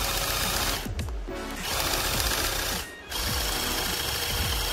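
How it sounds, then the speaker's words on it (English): A power drill bores a deadbolt hole for a keyless RV lock in a van build, with a steady loud grinding whir broken by two brief dips where the bit eases off. "Let's drill that deadbolt hole."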